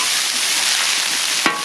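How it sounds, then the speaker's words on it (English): Bacon and onions fry on a Blackstone griddle, a steady close sizzle with a brief scrape or clink near the end. "So we'll go ahead and cook up this bacon and onions."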